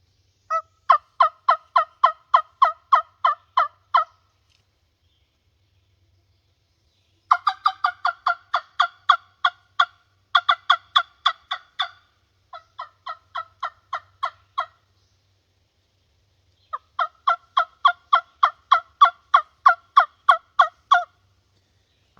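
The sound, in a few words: wingbone turkey call imitating turkey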